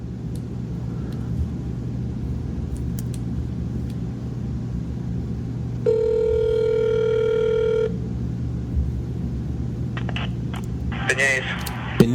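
A telephone call rings out over a car's steady engine rumble, a single sustained ring tone lasting about two seconds, followed by brief dialing beeps and short voice fragments near the end.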